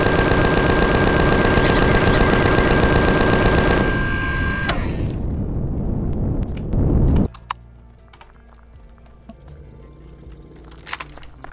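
Rapid automatic gunfire from a player's vehicle-mounted weapon in the space survival game Empyrion Galactic Survival: a loud, continuous hammering burst for about four seconds, then a quieter mechanical hum with scattered clicks.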